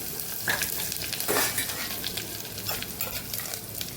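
Cumin, asafoetida and curry leaves hit hot ghee for a Kathiyawadi urad dal tadka, giving a steady, close crackling sizzle with light spoon stirring throughout and no talking.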